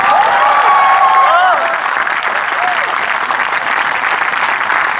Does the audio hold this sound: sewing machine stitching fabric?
no